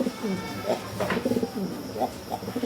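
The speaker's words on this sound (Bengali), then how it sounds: "তো কবুতর একটা হচ্ছে কিং, দেখেন পায়রাটা আপনাদেরকে দেখাচ্ছি" A white King pigeon coos in soft, low repeated phrases close by, over a steady background murmur with some voices in the distance.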